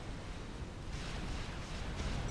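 A continuous low rumbling wash of overlapping explosions and fire from bombers in Supreme Commander: Forged Alliance, fairly faint and steady, with dense booming texture and no talk.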